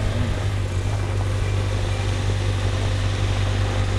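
A snow blower clears snow in Canada near a playground, a loud, steady engine drone with a strong low hum running unbroken throughout, close by and with no speech over it.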